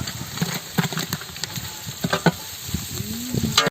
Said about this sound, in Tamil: வெங்காயத்தை இப்போ போட்டுக்கிறேன் கிண்டு கிண்டு கிண்டு